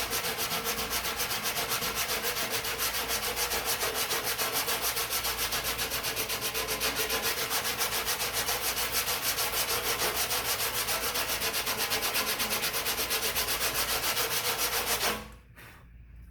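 Body filler on a car panel being block-sanded with 180-grit paper before primer; a close, steady rasping scrub with fast regular strokes runs unbroken for about fifteen seconds, then stops abruptly.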